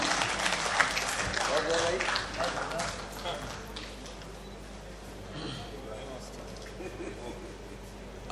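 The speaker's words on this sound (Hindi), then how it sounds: "आप लोग भी अपनी तालियों के साथ शरीक हो सकते हैं इस सम्मान में।" Applause from a mushaira audience, strongest at the start and gradually thinning, with a voice talking over the clapping as it fades.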